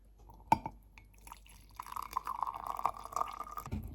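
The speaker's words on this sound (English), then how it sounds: "Okay, so it's time to pour." Tea is poured into a glass during a first attempt at brewing dry tea at home, giving a steady liquid trickle that rises in pitch as the glass fills, preceded by a sharp clink, with no talking.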